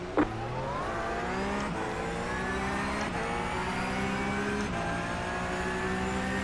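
Porsche 911 Cup race cars in iRacing at Road Atlanta accelerate hard off a green-flag start, engines revving loudly through repeated rising upshifts with a steady, close, continuous roar.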